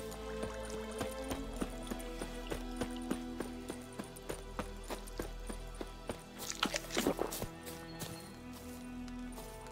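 Roach the horse trots in The Witcher 3, a steady clip-clop of hooves under in-game music, with a brief cluster of heavier hoof hits near the end.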